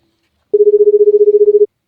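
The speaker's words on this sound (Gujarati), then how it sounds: "હું ભલાજીને ફોન કર દઉં કાંઈક" A telephone tone sounds as one loud, steady beep lasting about a second with a fast pulsing texture, alone after a moment of silence, as a call is placed.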